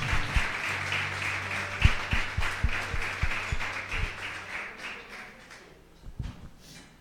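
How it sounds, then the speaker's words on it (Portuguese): A church congregation applauds loudly, with a few sharper individual claps standing out, then the clapping fades toward the end. "Aplauda ao Senhor, querido."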